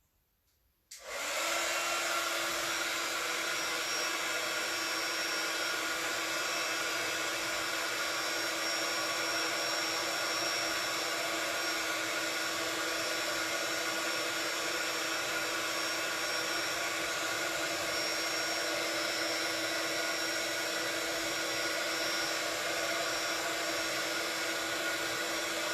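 A heat embossing gun switches on after a brief silence and blows hot air in a loud, steady, unbroken roar close by, used on a card with gold foil flakes. No one speaks.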